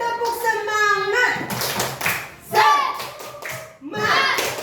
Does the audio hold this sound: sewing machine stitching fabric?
no